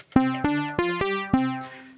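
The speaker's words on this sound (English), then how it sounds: "So on the Digitone, I've prepared a patch already." A synth patch played on an Elektron Digitone plucks five bright, bell-like notes in a quick uneven melody, each with a sharp attack and short decay, clear and alone without any voices.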